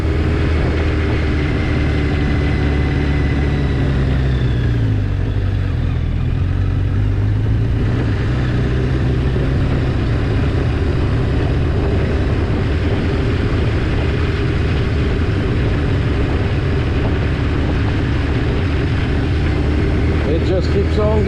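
A car engine drones steadily in second gear on Sandwich Notch Road, an unpaved forest road in New Hampshire. The hum stays low, constant and close for the whole stretch, with a faint rattle near the end.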